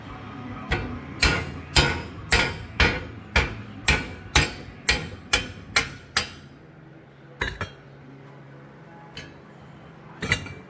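A hammer strikes a homemade punch made from a bolt, driving out a leaf spring bushing from a 1966 Ford F250 rear spring: about eleven loud, sharp metallic blows in a steady rhythm, then a pause and a few scattered hits.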